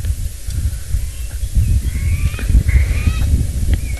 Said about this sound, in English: Here's our francolin.